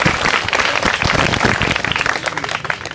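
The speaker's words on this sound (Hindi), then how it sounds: "तालियां जोरदार" Loud, sustained applause from a village gathering audience, dense clapping from many hands filling the whole stretch without a break at an outdoor community tree-planting launch event.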